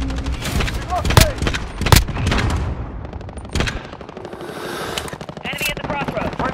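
Gunfire in a Modern Warfare (2019) multiplayer match: loud, close shots and bursts over busy battle noise, with a voice talking over the action.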